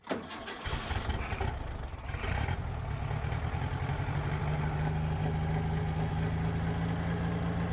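A 1966 Stallion Roadster engine cranks on the starter, catches and settles into a steady, rumbling idle close by, first start in decades, with no talk over it.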